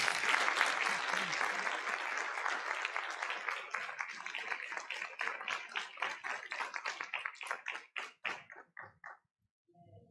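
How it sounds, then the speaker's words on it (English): Audience applause for student athletes at a school district event, a dense round of clapping that thins out into scattered individual claps before stopping. "they all deserve a round of applause"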